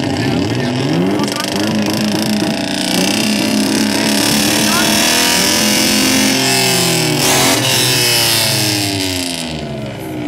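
A tuned car at a 2015 tuning meet in Azuaga revs hard and continuously. The loud, rising engine note holds for about ten seconds as people shout and talk over it.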